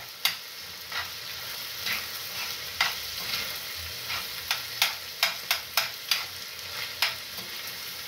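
Mukimo, a mash of potatoes mixed with waru and meat, stirred in a pot with a series of scraping, knocking spoon strokes over a steady sizzling hiss, fairly close, with no talking.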